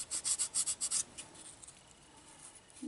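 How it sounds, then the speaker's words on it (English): Fine sandpaper is rubbed over the surface of a windshield washer pump from a Mercedes-Benz W116/R107, making about eight quick rhythmic scratchy strokes close by, followed by quieter faint rubbing. "I'm just going to hit that with a little bit of pretty fine sandpaper"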